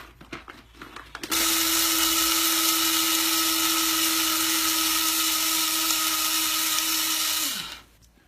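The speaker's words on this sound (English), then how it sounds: "Just put those beans in there, grind them up." Coffee grinder chewing through darker-roast coffee beans: a short clatter of beans, then a loud, steady high-pitched electric whine with a constant motor tone for about six seconds before spinning down and stopping.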